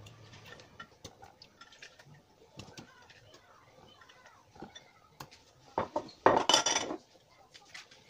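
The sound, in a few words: putting vegetables into a Cookeo pot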